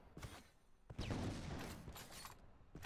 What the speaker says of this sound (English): I accidentally shot myself there.